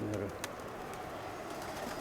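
Soft pigeon cooing, close by, with a low throaty burble near the start and faint ambient noise.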